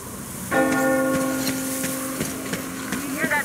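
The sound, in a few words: church bell ringing in Metro Exodus video game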